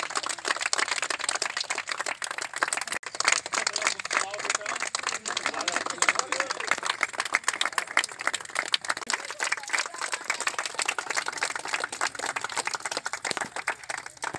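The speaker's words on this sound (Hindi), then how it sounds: "मैं चाहता हूँ जोरदार तालियां बजा के हम लोग उनका सम्मान करें" Dense, continuous clapping from a crowd at a birthday gathering where a tree was planted, sustained steadily throughout with voices mixed in.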